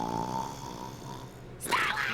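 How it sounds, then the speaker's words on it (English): An animated pony from My Little Pony: Friendship Is Magic snores in a low, steady, rumbling drone, and a sudden loud voice breaks in near the end. "Oh, and one of them snores, of course."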